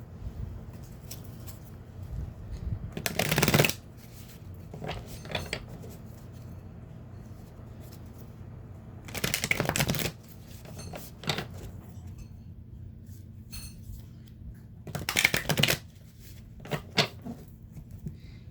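Oracle card decks are shuffled in three brief, sharp riffling bursts spaced several seconds apart, close and crisp, with quiet handling sounds in between.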